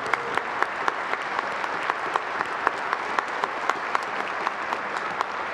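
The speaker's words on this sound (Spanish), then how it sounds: "le damos un aplauso" A church congregation claps during Mass: steady, moderately quiet applause with regular individual claps standing out in a fairly even rhythm, with no voices over it.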